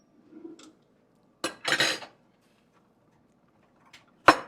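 A big spoon clinking and scraping against a pot of Jamaican fish head soup, a few separate sharp metallic knocks and a short rattle with quiet gaps between them.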